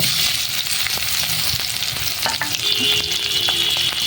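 Chopped onion and garlic frying in oil in a kadai, a dense continuous sizzle with repeated stirring scrapes and clinks, close and fairly loud, with no talking.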